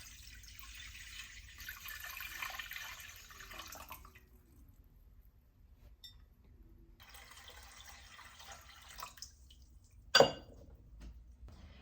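Water runs into a steam juicer pot on the stove while canning cranberry juice, a steady pouring rush in two stretches separated by a quiet pause, ending with a sharp metallic clank.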